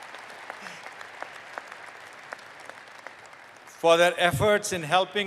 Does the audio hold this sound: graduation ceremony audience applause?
yes